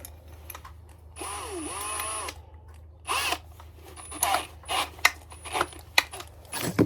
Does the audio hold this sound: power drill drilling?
yes